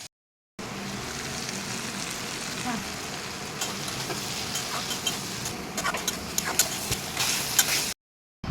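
Food frying in a pan during the cooking of a vegetarian paneer dish, a steady dense crackle and hiss holding for most of the stretch, close and fairly even, with no voices over it.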